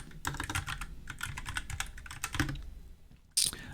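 Rapid keystrokes on a computer keyboard while a search query is entered into Amazon, a dense run of close clicks with short pauses, ending in a sharper, louder tap.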